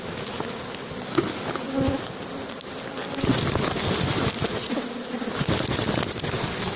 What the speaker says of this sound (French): l'essaim est là depuis un moment. Je vais essayer de secouer un peu plus là